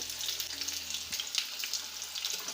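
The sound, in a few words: potato and taro frying in oil in a wok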